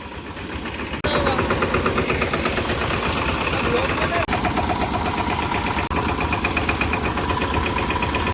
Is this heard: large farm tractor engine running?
yes